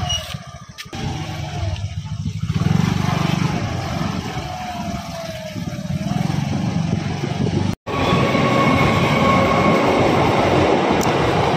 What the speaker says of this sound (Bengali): গেট পড়ে গেছে, ওই জন্য দাঁড়িয়ে আছি আমরা। 2-3টে ট্রেন গেল।